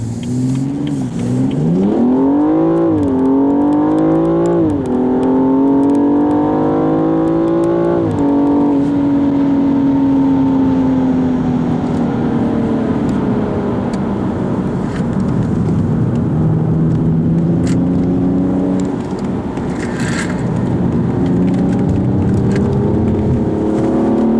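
A 2015 BMW M235i's engine revs hard and climbs through several rising pulls with gear changes, then settles into a steady loud drone that swells again near the end, heard from inside the car with no talking.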